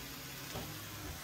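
Coconut milk poured into a pot of agouti curry, giving a steady, dense sizzle and frying hiss close up for about a second, with a slight splashy swell partway through.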